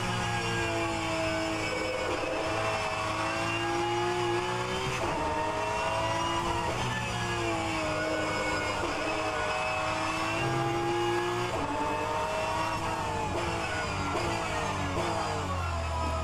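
Porsche 911 GT3 (992) Cup engine in rFactor 2 racing at Laguna Seca, a loud continuous racing-car drone that rises and falls with gear changes and revving, with no talk over it.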